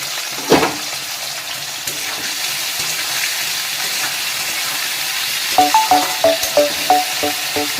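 Potato, cauliflower and capsicum frying in a pan, giving a steady loud sizzle, with a sharp clatter near the start and a run of rhythmic stirring scrapes toward the end.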